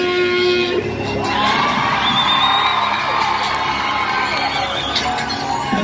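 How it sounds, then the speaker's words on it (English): A cruise ship audience screams, whoops and cheers loudly and continuously for the winner of a hairy chest contest on the Carnival Breeze, with a voice calling out over the roar. "It's time for you to scream and shout."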